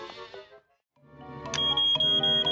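A loud, piercing smoke alarm beeps in a steady high tone after a brief stretch of other sound and a short pause.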